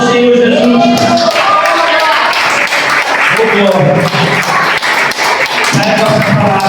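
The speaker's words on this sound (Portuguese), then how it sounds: "Quem crê nisso, aplauda o Senhor Jesus." Clapping from a gathering mixed with loud voices and music-like tones, rhythmic hand claps continuing under the sound of people.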